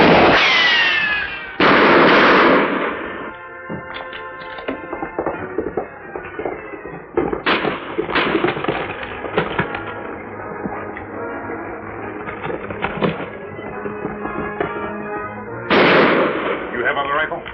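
Gunfire sound effects in a radio drama shootout, with bursts of loud, rapid cracking shots that overlap with music and dramatic voices throughout.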